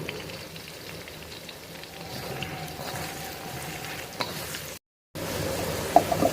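Potatoes are stir-fried in a pan with a pinch of salt and turmeric for a Bengali pui shak chingri dish. A continuous sizzle runs under repeated scraping and stirring, with a brief gap and then a couple of sharper clinks.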